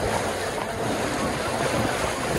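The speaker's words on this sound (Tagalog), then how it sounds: "maingay yung tubig, yung maingay" Water splashing and washing against the shore in Hong Kong near sunset, a loud, continuous broadband rush mixed with wind noise on the microphone, with no distinct breaks.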